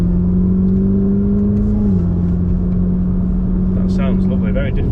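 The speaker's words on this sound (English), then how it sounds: "So V8, no baffles in the back of the exhaust" Ferrari V8 with no baffles in the rear of the exhaust, a loud, close, steady engine drone that holds a high idle, then drops slightly and carries on evenly, with people talking over it near the end.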